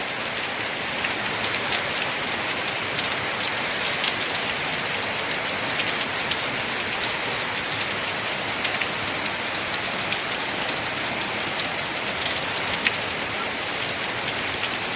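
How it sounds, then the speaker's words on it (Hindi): Heavy torrential monsoon rain pouring down in Mithila, north Bihar, a loud, dense and unbroken hiss of water drumming on surfaces, with no voices over it. "देखिए कितना मूसलाधार बारिश शुरू हो चुकी है"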